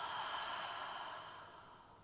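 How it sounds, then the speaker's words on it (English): A slow, soft exhale through the nose or mouth during a gentle yoga flow, a single long breathy whoosh that fades gradually, close and quiet with no talking over it. "And exhale."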